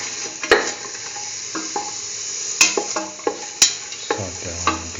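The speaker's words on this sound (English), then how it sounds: "Spread the oil in the pan. Put in the onion pieces." Onion pieces sizzling in hot oil in a pan, a constant close frying hiss punctuated by sharp clicks and scrapes of a utensil stirring against the pan.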